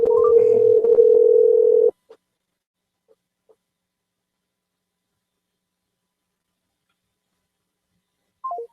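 Telephone dial tone on a call back, a steady loud tone for about two seconds, then a few faint clicks, silence and a brief descending tone at the end.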